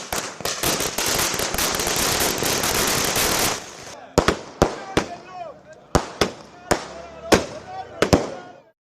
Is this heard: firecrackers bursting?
yes